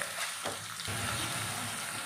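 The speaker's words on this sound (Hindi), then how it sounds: "गोल टाइप की हमने प्याज काटी थी एक बड़ी, वो भी हम इसमें फ्राई कर लेंगे तेल में" Sliced onion hitting hot oil with cumin already in the pan, giving a sudden loud, dense sizzle that holds steady with faint stirring beneath.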